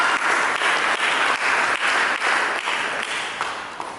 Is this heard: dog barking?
no